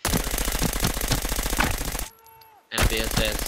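Rapid automatic gunfire in a first-person shooter video game, loud dense bursts that stop briefly and then resume.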